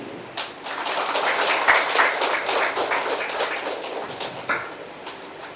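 An audience applauding after a speech at a Tamil book launch event: steady, dense clapping from a crowd in a hall, sustained for several seconds before tapering off.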